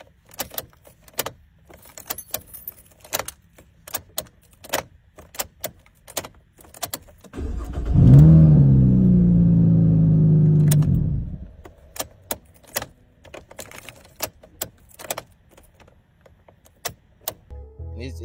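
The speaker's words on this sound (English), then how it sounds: "the key tend to get stuck in the ignition a lot" A 2015 Camaro's stuck key rattles and jangles in the ignition in sharp scattered clicks, with a steady hum of a few seconds in the middle.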